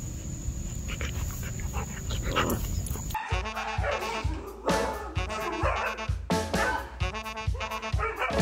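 A husky puppy lets out a run of high, rapid yips and barks, close and loud, after a stretch of muffled noise.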